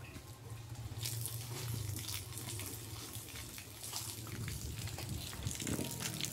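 Water pours steadily from a garden hose on a rural farm, a continuous rushing splash at low to moderate level, with faint background voices.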